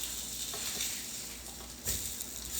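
Protein pancake batter sizzles on a small electric griddle set to 400 degrees, a steady close frying hiss with a brief louder flare near the end, no talk.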